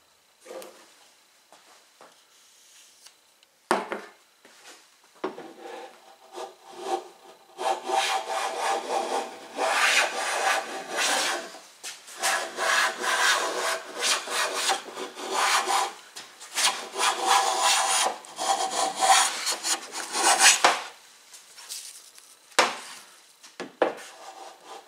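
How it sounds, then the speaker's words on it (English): A jack plane flattens one face of a long lumber board in a run of rhythmic rasping strokes, each a swish of steel shaving wood, with quieter handling knocks before and after; no voices. "So I'm going to use a jack plane to get one side as flat as I can."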